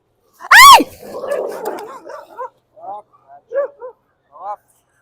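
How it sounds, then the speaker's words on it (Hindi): A dog barks once loudly up close, then gives a string of shorter yips and whimpering barks at a beach, with a person's voice mixed in. "वो डॉगी आया"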